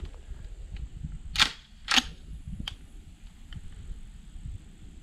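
Two sharp, distant gunshot cracks from a Mossberg Shockwave shotgun firing slugs, about half a second apart, followed by a fainter third report over low background rumble.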